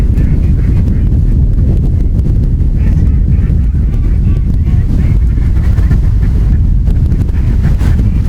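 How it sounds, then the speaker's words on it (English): Strong wind buffets the microphone outdoors during a solo duck hunt, a loud, constant roaring rush with gusty low-end rumble, and honking geese faintly mixed beneath it. "It's so windy, I'm probably not even going to be able to call them."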